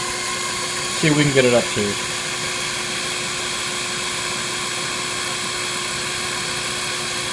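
A Grizzly G0765 7x14 benchtop lathe spins its spindle in low gear, giving a steady, even motor whine throughout, while someone briefly speaks near the start.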